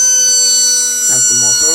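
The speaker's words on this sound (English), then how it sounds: "That's the motor." An RC scale model boat's motor gives a steady, high-pitched electric whine that holds throughout, with a voice speaking over it near the end.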